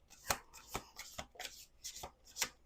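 Playing cards are shuffled during a tarot reading in four or five quick, crisp riffle bursts spaced about half a second apart. They sound close and fairly quiet, with no talking.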